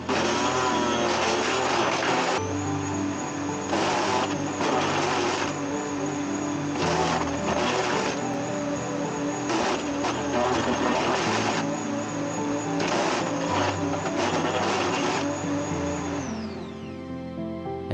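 A Bosch AXT Rapid 2000 garden shredder chops cherry and mulberry branches, a loud steady motor drone broken by repeated bursts of grinding crunch as each branch is fed in, ending as the motor winds down.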